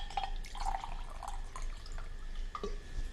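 Water poured into a pressure cooker holding rice, a soft, steady trickle and splash lasting a few seconds with faint dripping accents and no voices.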